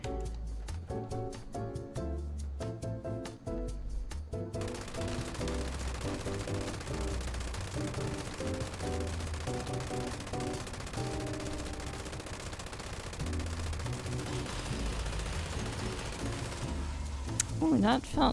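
A light machine gun in Fallout 76 fires long, rapid automatic bursts over game music, loud and sustained for most of the stretch.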